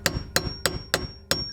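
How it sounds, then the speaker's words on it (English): A hammer taps a flathead screwdriver against the tabs of a fuel pump locking ring on a Mitsubishi Eclipse or Galant, giving five sharp metallic knocks, close and evenly spaced, with no talk. "a flathead screwdriver and a hammer and hit these tabs counterclockwise so we can loosen this ring up"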